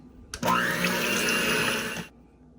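A blender whips a coconut oil mixture for a paleo cake in one loud, steady burst of roughly two seconds, starting abruptly and cutting off cleanly into near silence.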